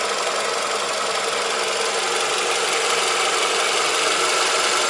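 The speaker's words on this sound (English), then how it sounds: "This is excellent Camry's motor sound." Toyota Camry 2.4 VVT-i four-cylinder engine in good condition, made between 2002 and 2015, running steadily with an even, continuous hum and hiss at a constant loud level, close by with no voices.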